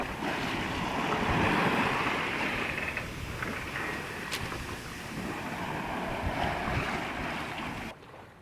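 Wind and waves rush around a sailboat at sea, sails up while the engine motors along at five to six knots, a loud continuous wash of surf and breeze with no talking.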